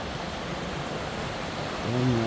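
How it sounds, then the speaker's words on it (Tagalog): A forest stream in a cool remote spot flows with a steady broadband rush of water, constant and fairly close, with a voice starting up faintly near the end. "dito na tayo sa sapa"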